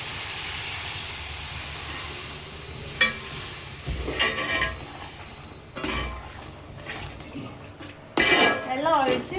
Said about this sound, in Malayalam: ഇനി ഇതിലേക്ക് നമുക്ക് കുറച്ച് വെള്ളം ഒഴിക്കാം.